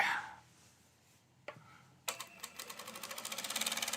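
A sewing machine runs in a speeding run of rapid, regular stitches along a folded seam held open, starting after a quiet pause with a single tap and growing louder toward the end.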